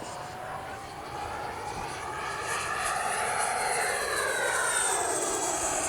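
A Freewing Avanti S V2 RC jet model aircraft roars steadily overhead, a loud continuous whine with shifting pitch as it passes and climbs straight up.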